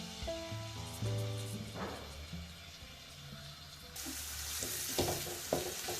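Chopped garlic hits hot oil in a pan, giving a soft continuous sizzle with occasional stirring clinks and scrapes, close and fairly quiet, no talking over it.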